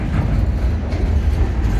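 A train halted across a road at a railway crossing gives off a loud, steady low rumble, continuous and close, with no voices over it.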